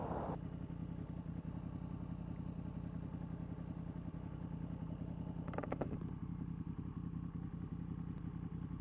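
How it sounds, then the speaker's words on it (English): Yamaha MT10SP with an aftermarket Akrapovic exhaust cruising a coastal road, its engine holding a loud, even rumble throughout, with a brief rattling burst partway through. "Loving the sound of the Akrapovic on here now."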